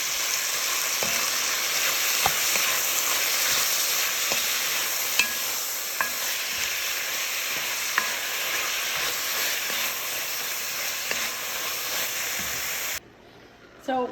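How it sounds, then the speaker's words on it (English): Steak and garlic sizzle steadily in a hot pan for about thirteen seconds, a constant bright frying hiss broken by occasional stirring clicks, then the sizzle cuts off abruptly near the end. "I'm going to throw in the garlic right in with the meat. And stir that up."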